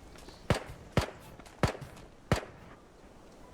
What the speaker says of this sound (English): Nah, they were shooting us.